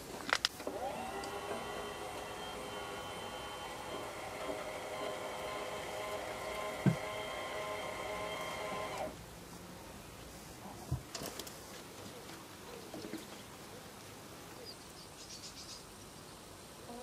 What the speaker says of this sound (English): This is my automatic pop hole for the chicken house.